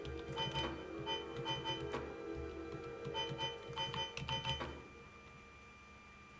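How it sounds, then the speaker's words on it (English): Morse code beeps in a video game: clusters of short and longer tones in irregular groups over a droning background, cutting off near the end and leaving a quieter hum. "Oh, we have the Morse code now."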